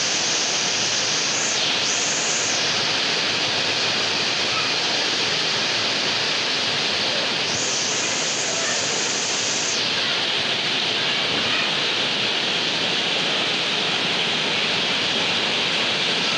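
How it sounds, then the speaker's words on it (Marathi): Heavy monsoon rain pours down in a village in the Konkan, a dense, loud, steady hiss that fills the whole stretch without letting up, with no one speaking over it. "ते बघा मित्रांनो, जबरदस्त असं पाऊस पडतो"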